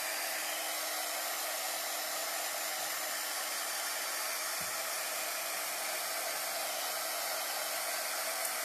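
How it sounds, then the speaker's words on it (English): A small hair dryer, used as a heat tool to dry a decoupage craft, gives a steady, even whirring blow that stays close and constant throughout, with no talk. "I'm going to take my little heater, my little dryer here, my little heat thing, and I'm going to help this along."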